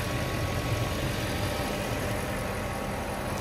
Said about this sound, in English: We've got the engine running right now. So you can see that it idles smooth.